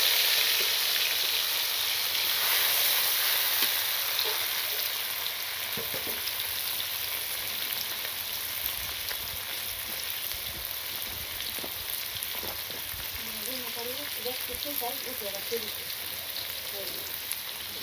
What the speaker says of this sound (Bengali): তো এই যে মাছ ভাজা হয়ে গেছে